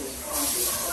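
A water hose sprays in a steady, loud hiss that swells slightly partway through the brief burst, at a small doggie daycare.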